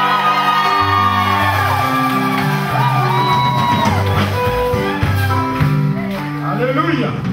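Wedding guests cheer, whoop and shout acclamations for the groom Célestin. The loud crowd noise runs throughout over sustained amplified music tones.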